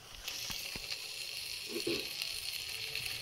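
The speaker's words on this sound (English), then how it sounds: "throw it on the pan there. Does it start to sizzle? That means you're hot enough." Sausage rounds sizzle in a hot frying pan, a steady close hiss of frying fat with a few soft taps and stirring sounds, no voices.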